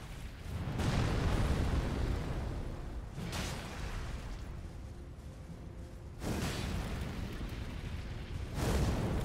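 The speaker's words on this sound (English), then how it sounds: "Wait for the initial explosion and double jump it." Explosions in the Elden Ring: Shadow of the Erdtree video game, with a sustained rumbling roar broken by several sharp renewed blasts at irregular intervals.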